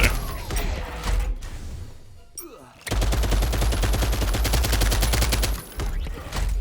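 Rapid automatic assault rifle fire in the sci-fi game Pax Autocratica, sustained loud bursts of evenly spaced shots with a brief lull near the middle, close and dominant.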